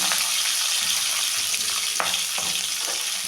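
Cut broad beans and potatoes fry in oil tempered with black cumin (kalo jeere), giving a dense, continuous close sizzle with a few faint stirring knocks and no talking.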